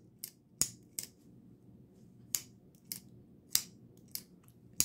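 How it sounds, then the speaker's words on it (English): Button-lock folding knife, satin or black-blade 14C28N steel, snapping open and shut in a series of sharp, close clicks spaced irregularly over a quiet background. "Button locks are always fidgety fun."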